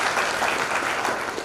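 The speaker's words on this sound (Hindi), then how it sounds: "एक बार 2-4 क्लिपिंग होनी चाहिए।" Audience at a company achievers' event claps steadily, a dense continuous patter of many hands filling the whole moment.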